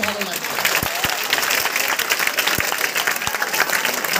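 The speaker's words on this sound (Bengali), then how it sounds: "এদের সবার জন্য একবার একটু জোরে হাততালি শুনতে পেলে খুব ভালো" An audience applauds teachers at a paramedical college event with steady, dense clapping for about four seconds, plus a few sharper claps standing out near the mic.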